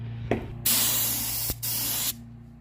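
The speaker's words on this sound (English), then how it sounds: "That step was spraying this down with an air tip." Two loud bursts of compressed air hiss from an air tip nozzle dusting a surface, each lasting about a second, with a short pause and faint clicks between them.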